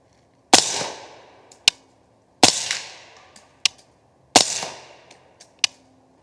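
Three subsonic .300 Blackout rifle rounds fired from a loaded magazine, each a loud sharp crack with a decaying tail and a fainter follow-up snap, evenly spaced about two seconds apart, outdoors with no talking.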